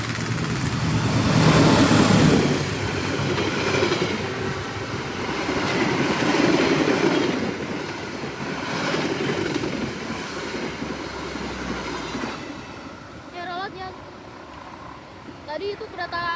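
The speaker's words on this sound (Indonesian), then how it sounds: "Tadi itu kereta api 61 Sembrani dari Surabaya Pasar Turi dengan tujuan akhir stasiun Gambir" Express train 61 Sembrani, an all-executive passenger service from Surabaya Pasar Turi to Gambir, rumbles past with loud rolling wheel noise and clatter that fades toward the end, with a voice talking over it.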